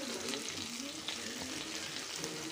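Drumsticks and brinjal frying in a pan, a steady broadband sizzle with light stirring scrapes throughout, close and continuous.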